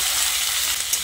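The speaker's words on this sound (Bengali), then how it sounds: "টমেটোটা দিয়ে ফোড়নের সঙ্গে আরও একবার ভালো করে নেড়ে চেড়ে মিশিয়ে নিচ্ছি" Chopped tomatoes fry in a ginger and green chili tempering, giving a steady, loud, close hiss of sizzling oil with faint stirring under it and no speech.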